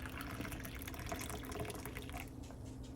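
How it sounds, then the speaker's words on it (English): Freshly brewed V60 pour-over coffee being poured into a mug, a steady close splashing trickle of liquid lasting a few seconds before easing off near the end, faint overall with no voices. "when I actually pour my coffee"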